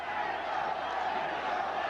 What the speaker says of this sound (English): The fans, capacity crowd, loving it